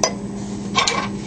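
A spoon stirs ground fine rice into a glass of milk, clinking lightly against the glass twice in quick succession, close and clear with no talking.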